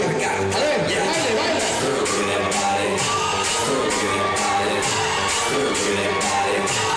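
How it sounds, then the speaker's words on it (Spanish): A lucha libre audience cheers, whoops and shouts for a dancer in a dance-off, a dense, continuous crowd roar with rhythmic pulses underneath, loud throughout. "a ver cuál de los dos se lleva los aplausos de esta noche"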